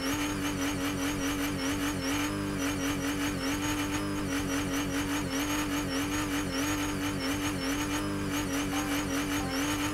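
A car in the Fortnite video game drives around a racetrack, its engine droning and revving steadily at high pitch. The motor sound is continuous and loud, with shifting whines and no voices.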